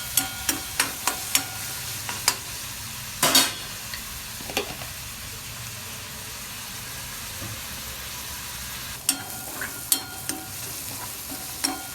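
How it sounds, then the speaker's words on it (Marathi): Chopped onion frying with salt in a pan for tomato chutney gives a steady, soft sizzle. Sharp spatula clicks and scrapes come in clusters at the start and near the end, with no talking. "कांदा चांगला असा शिजत आलाय मस्त पैकी."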